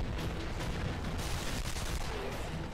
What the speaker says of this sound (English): Oh, game in progress. Damn. I'm getting shot already.